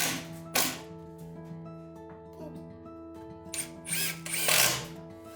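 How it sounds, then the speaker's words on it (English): A power screwdriver drives a screw diagonally from above into a wooden kamoi lintel during Japanese interior joinery, with a steady mechanical whir broken by a short burst early on and a louder, longer burst of driving near the end. "I just need to screw it diagonally from the top to secure it."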